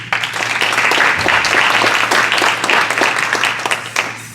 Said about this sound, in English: give you another round of applause